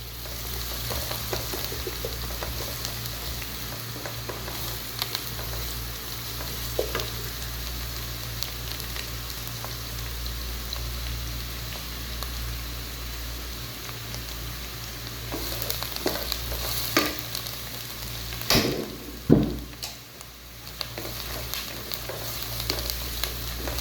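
Onions fry in a pan for palak gosht, a steady low sizzle with occasional stirring scrapes and clinks near the end. The sound is close and moderate, with no one talking.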